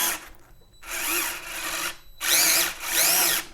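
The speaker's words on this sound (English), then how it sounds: "Yes, I finally got myself a power screwdriver." Power screwdriver driving screws while fitting lowered pedals on an e-bike, four loud whirring bursts of rising and falling motor pitch separated by short pauses, close up with no speech.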